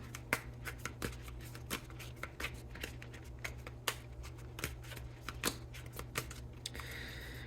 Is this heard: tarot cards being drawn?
yes